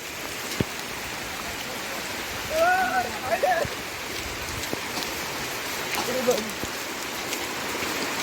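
Steady rain patters and hisses on surfaces nearby, with brief voices speaking faintly beneath the downpour.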